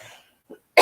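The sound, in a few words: cough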